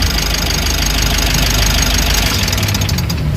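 A Mitsubishi L300 Euro 4 engine idles close by in a steady, loud, continuous run with a dense low rumble and a constant mechanical clatter, heard alone for a few seconds.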